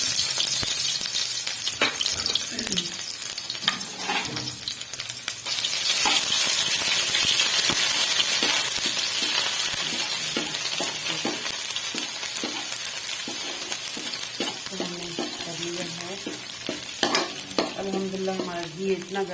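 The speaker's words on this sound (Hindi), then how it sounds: "यहाँ पे हम डालेंगे इसमें अदरक लहसुन का पेस्ट" Ginger garlic paste frying in hot ghee, a steady sizzle with repeated scraping and stirring strokes of a utensil against the pan, close and continuous without talking.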